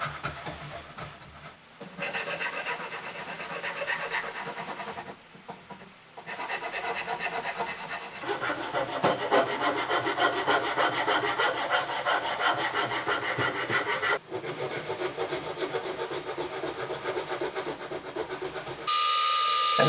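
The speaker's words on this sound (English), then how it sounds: "I'm going to use some files, a rasp, a card scraper, and various different hand tools that I need to shape these legs to smooth them out." Wooden coffee table legs are shaped by hand with a rasp and files, long rhythmic rasping strokes repeating closely and loudly in a workshop with brief pauses between bouts, no talk.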